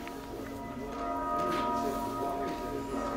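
Church bell of the Cathedral of St. Michael and St. Gudula in Brussels ringing with sustained overlapping tones, swelling slightly louder midway, faint talk underneath.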